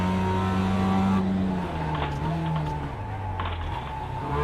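A race car in a sim racing game revs close and loud, its engine pitch falling and rising through gear shifts, with faint tyre scrub underneath.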